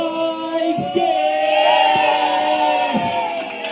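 A crowd at the Abu Bakar Family Day 6.0 treasure hunt cheers and whoops for the winning team, Spike, in a loud, sustained swell of voices with a few sharp claps.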